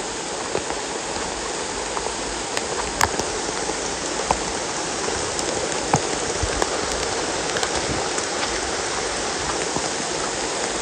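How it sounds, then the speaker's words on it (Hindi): Monsoon rain falls steadily on the stone and mud trail of Mangad fort in Mangaon, a dense, even hiss with occasional close drips and splashes. "बारिश गिर रही है"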